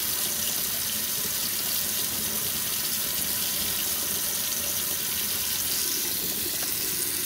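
Hot water pours steadily from a tap into a sink, a constant hissing splash that holds unchanged throughout, with no voices.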